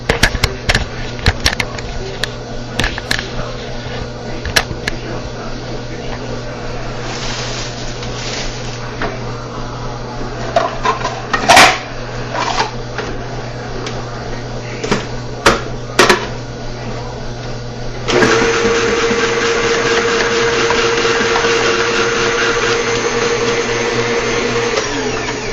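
A food processor slices potatoes fed in one after another, its loud motor whirring steadily with sharp clacks and knocks, then surging into a louder, higher whine near the end.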